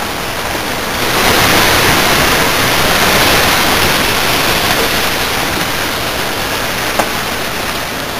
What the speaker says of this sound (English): we're going to go and put some water in our pot